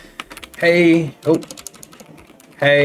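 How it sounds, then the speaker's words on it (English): Keys clacking on a SteelSeries Apex Pro TKL gaming keyboard in bursts of rapid typing, close and fairly loud, with a brief spoken word in between. "Let's do a little bit of a typing test"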